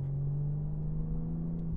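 BMW M3 CS performance saloon, a rear-drive car, heard from inside as a steady low engine drone and rumble at cruising pace, continuous and fairly loud with no speech.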